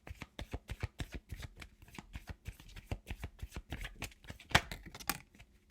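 Tarot cards are being shuffled, giving a steady run of crisp flicking riffles and soft slaps in a quick regular rhythm, close by and fairly quiet.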